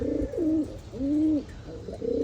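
Pigeons coo up close in a series of low, rolling, throaty calls, one long coo in the middle between shorter ones, with a faint background hum.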